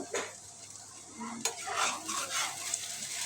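Mixed vegetables cooking in a pan with a soft sizzle and several quick scraping, clinking stirs of a spatula, close but fairly quiet.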